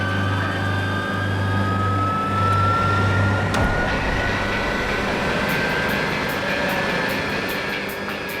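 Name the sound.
jet engines blasting toward a car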